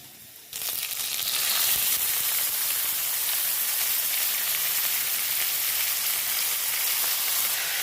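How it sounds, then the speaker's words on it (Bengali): A loud, dense sizzle bursts in after a brief quiet start and continues steadily as potatoes and rice fry hot in a pan nearby. "ফোড়ন দিয়ে আলু দিয়ে একটু ভাজা ভাজা করে চাল দিয়েছি"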